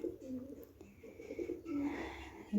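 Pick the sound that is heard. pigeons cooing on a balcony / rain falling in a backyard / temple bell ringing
pigeons cooing on a balcony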